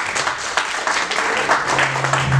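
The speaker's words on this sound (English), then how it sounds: "Please welcome him with a big round of applause." Audience applause for a speaker at a medical lecture on uric acid and kidney disease, steady close clapping from a crowd lasting a couple of seconds, with a low hum entering near the end.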